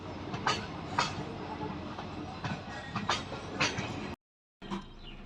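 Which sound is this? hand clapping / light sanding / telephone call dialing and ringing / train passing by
train passing by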